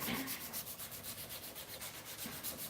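A knife handle sanded by hand with 240 grit sandpaper, quick rhythmic back-and-forth rasping strokes, close and quiet, with no talking.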